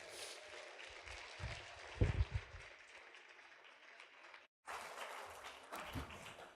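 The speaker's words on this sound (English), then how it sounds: "Please give them a round of applause." Applause from an awards dinner audience, a broad wash of clapping that swells briefly, drops out for a moment, then resumes at moderate loudness.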